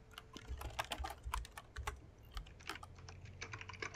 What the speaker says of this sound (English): I'm just going to type out a little message for them.